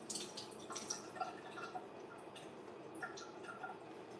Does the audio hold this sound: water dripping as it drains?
yes